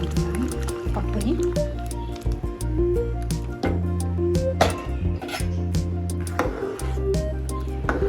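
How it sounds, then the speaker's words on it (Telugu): Cooked lentils go into a simmering pot of pappucharu, giving soft wet plops and stirring scrapes against the vessel over a steady low hum from a kitchen appliance. "పప్పుచారుని ఇంకా వేసుకుంటున్నాను పప్పుని."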